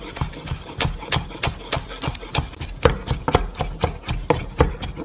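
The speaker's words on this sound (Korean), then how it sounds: "깻잎은 이렇게 돌돌돌돌 마르셔서 잘라주신 다음에" A knife chops rolled perilla leaves on a cutting board, giving quick, even, close taps in a steady rhythm of about three to four strikes per second.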